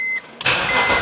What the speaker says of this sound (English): We start the engine